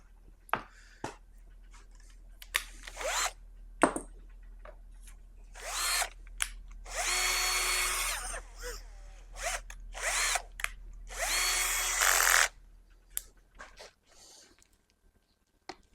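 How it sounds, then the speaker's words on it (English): A power drill bores a mounting hole for an HT fuse, running in several loud bursts of whirring of varying length, with quiet pauses and small handling noises between them. "that is where I'm going to drill the mount for the HT fuse"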